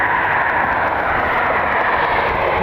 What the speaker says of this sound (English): Does sound like the Gulfstream is coming in here